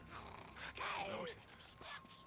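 In the video game Days Gone, a zombie lets out a drawn-out, wavering howl-like groan at some distance, under a murky game background with faint voices.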